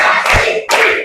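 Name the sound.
children clapping in counted rhythm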